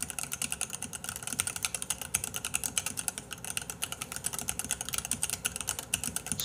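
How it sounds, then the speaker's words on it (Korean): Rapid, continuous typing on a clicky Varmilo mechanical keyboard with Varmilo pink switches, close and crisp, with quick irregular keystrokes and no voices. "이 키보드 치는 소리가 너무 좋대요"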